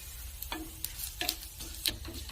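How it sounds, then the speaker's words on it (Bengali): Dried red chilli and nigella seeds sizzle in hot mustard oil while a crab masala is being cooked. A quiet, steady frying hiss is broken by a few sharp clattering bursts from stirring. "এখন আমি তেলের মধ্যে একটা গোটা শুকনো লঙ্কা ও কিছু কালো জিরে দিয়ে দিচ্ছি।"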